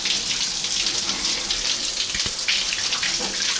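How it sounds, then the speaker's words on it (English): Shower water runs steadily as shower gel is rinsed off a body, a continuous close hiss of spray with faint splashing changes and no talking. "Now I'm rinsing off the shower gel."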